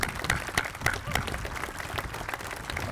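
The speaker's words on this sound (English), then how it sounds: "let's give them a special round of applause" An audience at a Veterans Day ceremony in Arlington applauds the veterans, with sharp individual claps and a steady crowd patter, mixed with some murmuring.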